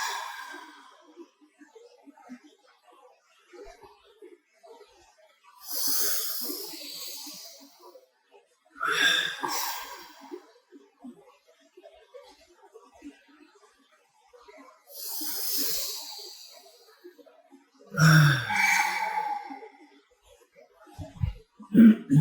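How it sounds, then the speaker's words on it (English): Three slow, deep breaths during a breathing exercise: long airy inhales followed by audible sighing exhales, each separated by several seconds of near silence, close and clear. "Let's take just 3 big inhales and exhales together."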